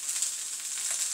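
Food sizzling in olive oil in a pan on the stove, a steady, fairly quiet hiss with no pauses.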